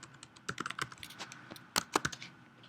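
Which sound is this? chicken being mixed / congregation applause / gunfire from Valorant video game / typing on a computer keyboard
typing on a computer keyboard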